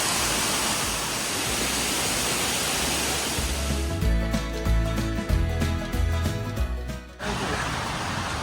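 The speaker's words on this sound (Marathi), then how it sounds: "इथे पाण्याचा फ्लो आहे" Rushing water from a forest waterfall hisses constantly throughout; midway, a few seconds of tonal, music-like sound rise over it before the water alone returns.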